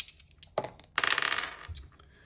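Two big dice clatter and tumble across a hard surface, a few sharp clicks followed by a busy rattling burst that settles into quieter taps, close and without speech.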